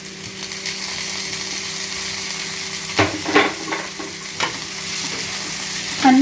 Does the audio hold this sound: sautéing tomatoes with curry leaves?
yes